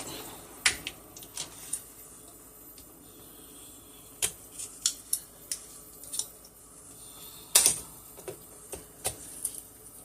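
A thyme container being opened in a kitchen while making stuffing gives sparse, sharp plastic clicks and ticks, a few isolated snaps and one brief cluster, fairly close against a quiet room.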